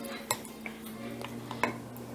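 Dandelion plants being stirred in alcohol inside a glass jar, light clinks and taps of a utensil against the glass at an uneven pace over a faint steady hum.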